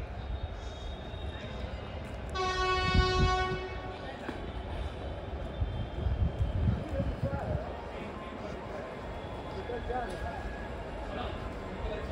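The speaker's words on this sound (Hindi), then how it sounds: "वो ट्रेन तो अभी शंटिंग करने में लगा हुआ है अपना" Train shunting at a railway station, with a long harmonic horn blast early on over low rumbling and clanking of coaches, distant and moderately loud, while people talk in the background.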